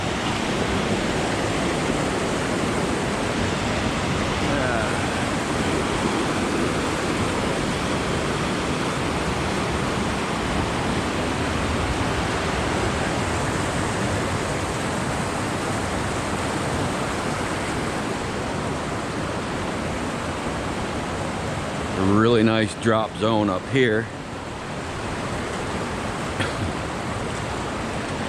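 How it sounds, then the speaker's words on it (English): Steady, loud rush of river water over big boulders, a continuous broadband roar filling the whole stretch, with someone briefly speaking near the end. "this water it doesn't look like it's moving that fast"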